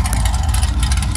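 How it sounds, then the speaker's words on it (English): Idling V8 in a heavy Chevy, the kind fitted with a 307 or 350, rumbles close by at a low, steady throb, loud and alone, without pause. "There's something rumbling behind me."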